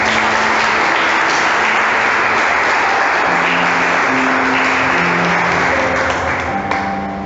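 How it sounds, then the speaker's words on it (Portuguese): A Catholic congregation applauds during a preaching service, a loud, dense, sustained wash of many hands clapping. Faint organ-like tones sit beneath it throughout. "Você pode aplaudir Jesus por isso?"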